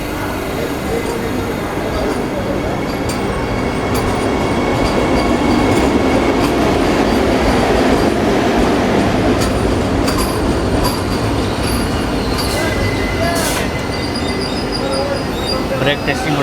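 Vasco da Gama–Tirupati Express leaving Dharwad, with a continuous loud rolling rumble of coaches and intermittent high wheel squeals through the run.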